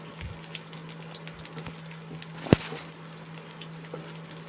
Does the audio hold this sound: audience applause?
no